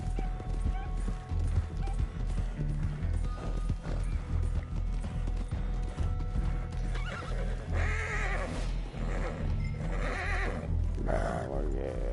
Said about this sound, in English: Settle down, horse.